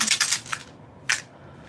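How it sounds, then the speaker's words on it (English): A pill bottle of meloxicam is shaken, giving a few quick bursts of bright rattling clicks, then a pause and one more sharp rattle, close and fairly loud with no talking. "You know, usually a pill bottle sounds like this"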